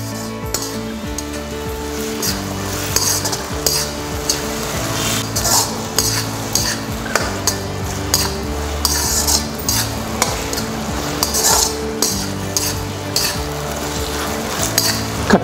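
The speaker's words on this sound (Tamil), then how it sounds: "தக்காளி சேர்த்ததுக்கப்புறம் அதையும் நல்லா சேர்த்து கலந்து விட்டுருங்க." Tomatoes for a quail egg masala are stirred and fried in a pan, steady sizzling under repeated scraping and clinking strokes of a spoon against the vessel, close and continuous.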